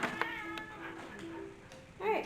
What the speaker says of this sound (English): Charmer, it's none of your business to get involved in the cat fight.